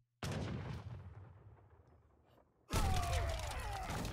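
Cannon fire in the video game Age of Empires III: a heavy booming blast opens and rumbles away, then a second loud burst of artillery and battle noise follows, with no voices.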